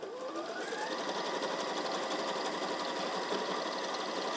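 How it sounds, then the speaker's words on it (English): A sewing machine runs steadily, stitching fabric backwards and forwards under a foot pedal, with a continuous close whir and no voices. "You can see the machine's taking it backwards and forwards as it's creating the stitch."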